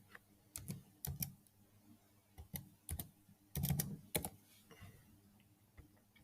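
Keys clack on a computer keyboard as a company contact number is entered into an online filing form, arriving in quick irregular clusters of close, crisp taps separated by short pauses.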